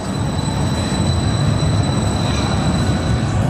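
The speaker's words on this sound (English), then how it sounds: "And here's the Swiss trains. And there it goes." A Swiss train rumbles steadily past close by outside Lucerne station, a continuous low roar with a faint high whine from the wheels.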